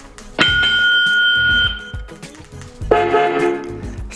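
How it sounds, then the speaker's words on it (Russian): A waterproof portable mono Bluetooth bicycle speaker plays its alternate bell signal: a loud sustained electronic chime held for over a second, a brief pause, then a second, different ringing tone, heard close and alone. "Сигнал звонка срабатывает в любом режиме работы этой колонки."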